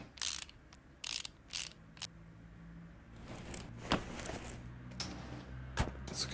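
Car parts are unscrewed in Car Mechanic Simulator 2018 with quick ratcheting clicks, short mechanical bursts repeating unevenly, fairly close and crisp against a quiet background.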